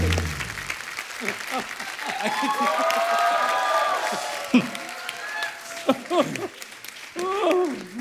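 A studio audience at a comedy show claps loudly in a sustained burst of applause, with voices and some cheering mixed through the crowd noise.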